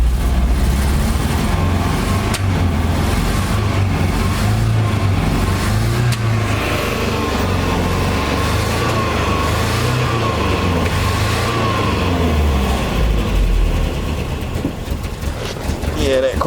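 A 1982 Nissan 720 King Cab mini truck engine running rough with its carburetor loading up, a loud continuous uneven rumble held throughout, easing slightly near the end.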